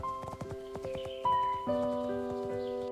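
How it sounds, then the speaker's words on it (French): Horse hooves clip-clop in a quick rhythmic gallop, fairly close, over a sustained musical background of held tones in a storybook setting. "Et elle disparut au galop vers la forêt des ombres."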